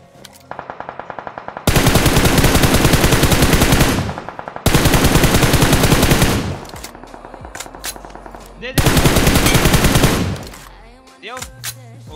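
Automatic weapon fire in a mobile battle royale game: long sustained bursts of rapid machine-gun shots, loud and close, separated by short pauses with scattered single shots and faint game sounds.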